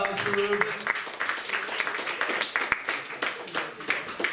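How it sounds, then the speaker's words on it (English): Applause for a performer at an open mic night, a dense patter of many hands clapping close by with a voice talking over it throughout. "Another round of applause for Luke."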